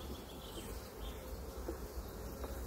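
Honeybees buzzing during a swarm hive inspection, a faint, steady drone of many insects, close and continuous with no talking.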